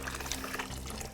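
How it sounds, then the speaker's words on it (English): Boiling water is poured into an ice chest for sous vide steak, a soft continuous splashing pour heard up close and fairly quiet. "We boil some water, dump it in here."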